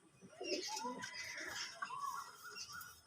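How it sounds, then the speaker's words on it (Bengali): Pigeons at home, a male and a female, give soft, low cooing calls that rise and fall in short phrases, fairly close but quiet, with faint chirps mixed in. "এটা মাদা পায়রা, আর এটা হচ্ছে নর পায়রা।"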